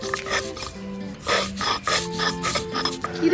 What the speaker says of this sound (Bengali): পোস্ত বেটে নিচ্ছি